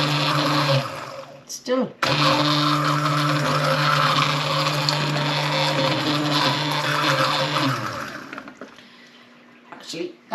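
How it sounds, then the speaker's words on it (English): A blender on its lowest setting whirs steadily through chicken tikka masala sauce, loud and close, running for several seconds with a short break near the start before it winds down; a voice speaks briefly near the end. "Now I am going to blend this. So I've got it on the lowest setting."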